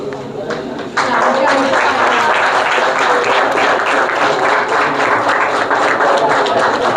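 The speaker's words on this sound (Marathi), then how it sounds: "जोरदार टाळ्या" Loud, sustained applause fills a prize distribution ceremony for a school drawing competition, breaking out after a brief spoken announcement and continuing densely to the end.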